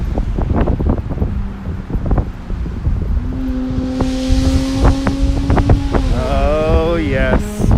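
A loud motorboat engine drones steadily on the Narrows off Bay Ridge, Brooklyn, its pitch holding and then rising and wavering, mixed with heavy gusting wind noise buffeting the microphone.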